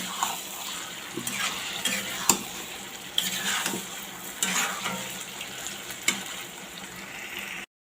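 Taro greens frying in oil with a hilsa fish head are stirred in a pan, giving a steady close sizzle broken by repeated scraping and clinking strokes of a utensil against the metal.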